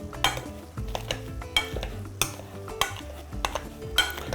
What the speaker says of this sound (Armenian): Եվ տրորում ենք։ Վերածում ենք խյուսի։